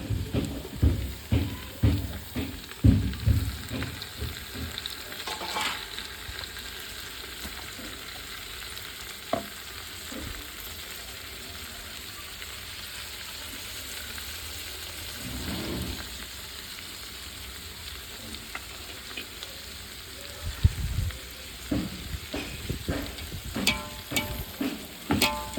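Tomatoes added to softened onions in a pan for prawn biryani fry with a steady sizzle, while a spoon scrapes and stirs in repeated bursts, close and clear, with no talking.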